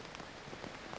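Rain falls on an outdoor show-jumping arena, a dense, even patter of drops throughout, soft and steady with no other sounds.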